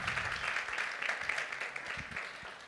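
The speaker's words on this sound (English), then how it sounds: "Let's give our students a round of applause, all those that are in this room." An audience applauds elementary students at a Midstate Christian Academy award ceremony, a soft, steady patter of many hands clapping, fairly distant and even throughout.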